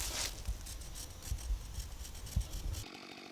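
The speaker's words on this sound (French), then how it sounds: "prend à nouveau sa tronçonneuse et s'en sert pour retirer les écorces du bois" A chainsaw roars steadily while stripping bark from wood, loud and close, with a rough buzzing texture before cutting off abruptly near the end.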